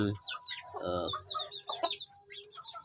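Free-range village chickens cluck in a run of close, choppy calls that rise and fall, with several birds overlapping and no talking.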